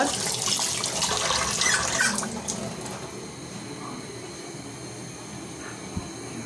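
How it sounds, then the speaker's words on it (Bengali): Tap water runs at a kitchen sink while dirty things are washed, a loud rushing splash at first that eases into a softer trickle with faint drips and clinks. "এদিকে যা নোংরা হয়েছে সব কিছু ধুয়ে ফেলবো এখন"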